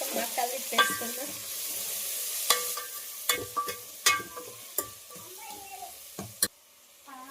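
Spicy mutton masala with tomatoes sizzles in a pan while a spoon stirs and scrapes in repeated close knocks and clinks, with quiet background voices.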